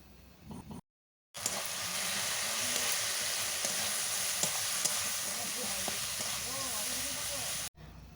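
Ginger and garlic fry in hot oil in a pan for a duck egg curry, giving a loud, steady sizzle with a brief silent break near the start and occasional stirring scrapes.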